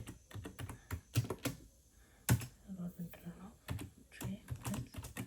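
Rapid computer keyboard typing while Java code is entered, uneven bursts of sharp clicks and key thumps with brief pauses, close and fairly loud, with a voice speaking in between.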